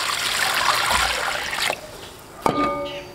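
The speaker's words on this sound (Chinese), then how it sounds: "先洗一番菜。" Tap water runs and splashes in a kitchen sink while vegetables are washed for sweet and sour pork, a steady trickling hiss that stops, then a brief clunk and a short gush of water.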